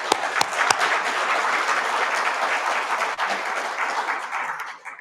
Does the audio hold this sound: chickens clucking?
no